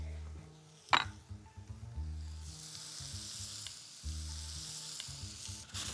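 Mushrooms sizzle and fry in a pan with rosemary and black pepper, a soft, steady crackle close by with a sharp clatter near the start and occasional stirring bumps.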